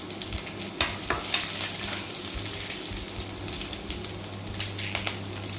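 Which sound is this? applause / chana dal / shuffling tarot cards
chana dal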